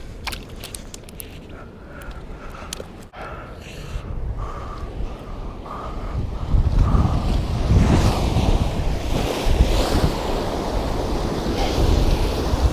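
Ocean surf rushes and breaks nearby at a tide pool, building from a softer wash into louder, rolling waves with wind buffeting the microphone.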